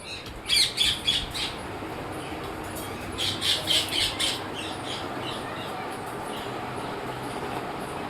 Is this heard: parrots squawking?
yes